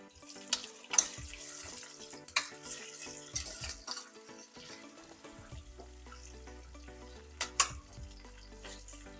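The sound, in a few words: ginger and onions frying with curry leaves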